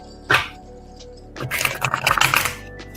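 Tarot cards being shuffled: a single sharp riffle, a brief pause, then a longer flurry of crisp card slaps and flutters up close.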